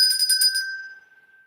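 A single bright electronic bell chime sounds as an alert during a livestream: a brief shimmering ring that decays quickly into a thin sustained tone, clear and alone.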